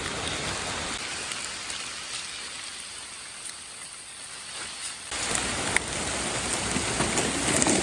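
Steady rain falls on surfaces all around, a dense hiss of drops that grows heavier and louder toward the end, with no voices.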